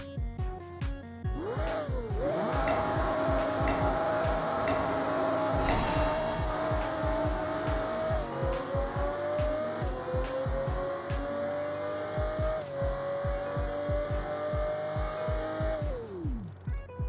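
Race cars in the video game Apex Racer run a half-mile sprint, their engines revving hard through rising gear shifts in a loud, continuous roar that winds up several times before cutting off near the end.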